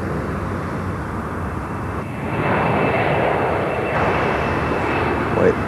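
A Sabena airliner departs in the distance, a steady broadband engine roar that swells louder partway through and holds, with faint voices underneath.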